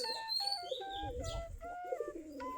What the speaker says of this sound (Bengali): আমাদের সবগুলাই দেশি গিরিবাজ কবুতর